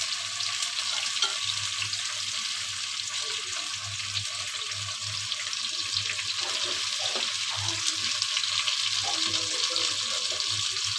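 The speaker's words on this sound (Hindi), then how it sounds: "प्याज को हम लाइट ब्राउन करेंगे और उसके बाद इसमें बाकी मसाले डालेंगे।" Onions fry in a pan for a vegetable curry, giving a steady, close sizzling hiss that runs unbroken throughout, with occasional stirring scrapes and no talking.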